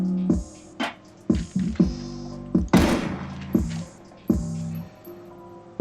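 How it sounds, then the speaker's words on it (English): An AK magazine dropped onto the ground in a first-person shooter game, heard as a series of hard, hollow thunks and clatters repeating about every half second to second, close and fairly loud, with no talk. "Drop AK mag in the game world."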